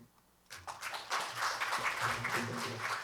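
Applause rises from near silence into sustained clapping from a business conference audience, fairly distant and soft, with some voices faintly blended in.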